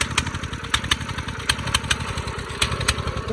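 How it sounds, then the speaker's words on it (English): A 200cc dirt bike engine runs close by with a rapid, steady putter and occasional sharper pops, holding an even idle throughout. "So let me start the engine right now."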